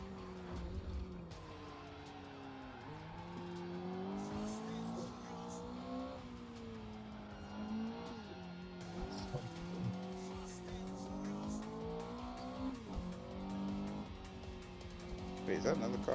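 Racing car engine in the driving game Assetto Corsa, droning steadily with rising and falling revs, tire squeal and skids under continuous talk by someone commenting over the gameplay.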